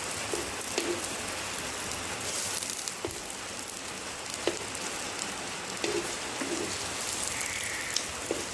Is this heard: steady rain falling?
yes